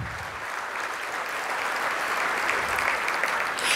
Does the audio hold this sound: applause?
yes